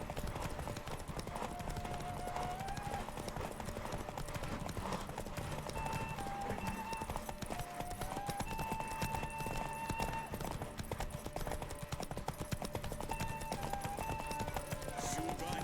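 Horse hooves clip-clop steadily in The Witcher 3 as the horse runs a derby race, a continuous rhythmic trot under game music and a voice talking.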